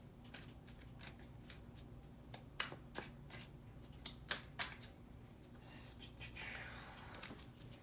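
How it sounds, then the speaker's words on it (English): Tarot cards are drawn and shuffled in quick, soft papery flicks and snaps, close and faint, with a brief sliding riffle near the end and no talking. "I'm going to draw 3 more cards just to get more clarity"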